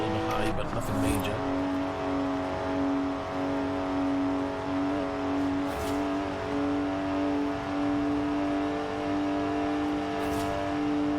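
A BMW driven in Forza Horizon 4, its engine holding a steady, fairly loud hum at near-constant revs with a few brief bursts of extra noise, while someone talks over it.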